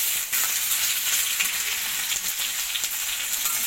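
Sambal Jawa of chilies, garlic, shallots and anchovies sizzles steadily in hot oil in a pan, a close, dense crackling that carries on alone without talk.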